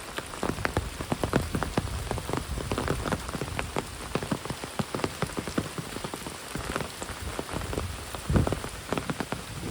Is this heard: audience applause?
no